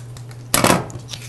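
Scissors snipping a plastic drinking straw down to length during small robot assembly, one short crisp cut standing out over a quiet room hum, near and brief.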